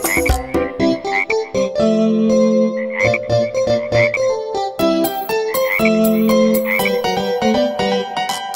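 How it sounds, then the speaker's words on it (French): Green spotted frogs croak in a children's song setting, the croaks arriving in a bouncy, rhythmic pattern over bright musical tones, close and loud throughout with no talking. "Il resta 2 grenouilles vertes tachetées."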